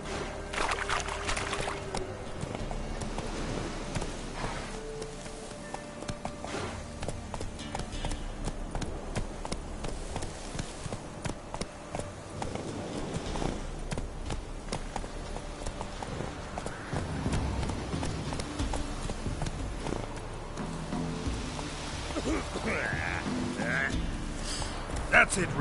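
Roach the horse galloping in The Witcher 3: Wild Hunt, rapid continuous hoofbeats close up under game music and ambience, with a voice speaking over it.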